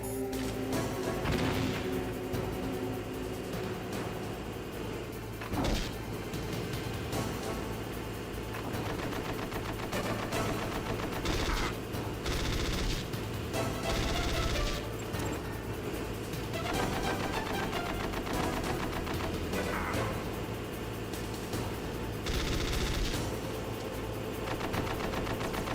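Dense gunfire rattles through a Metal Gear Solid game session, bursts of shots and booms layered over continuous in-game sound with no talking.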